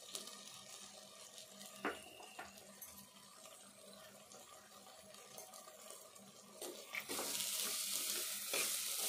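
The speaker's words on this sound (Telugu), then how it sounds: "అందుకే ఈ పప్పు కూడా కొద్దిసేపు వేపుకుందాము" Moong dal sizzles faintly in a pan with soft stirring scrapes and clinks, growing into a louder, hissing fry toward the end.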